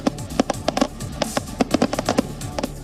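Fireworks and firecrackers set off at a street celebration with a car rally in Sydney, a rapid irregular string of sharp cracking pops, loud and close.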